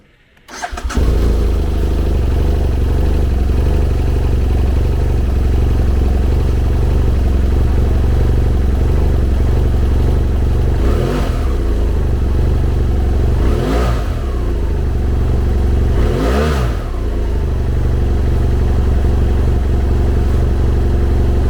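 A 2013 BMW F800GT with ABS starts up and settles into a loud, steady idle close by, then gets three sharp throttle revs near the end with no talking.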